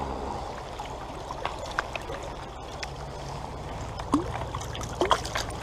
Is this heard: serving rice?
no